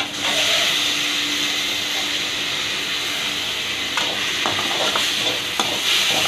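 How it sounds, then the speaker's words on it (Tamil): Ginger and green chili paste frying in a pan for soya shawarma fills the clip with a loud, steady sizzle and hiss, broken by a few faint stirring clicks toward the end. "அதையும் சேர்த்து நல்லா இந்த மாதிரி ஃப்ரை பண்ணணும்"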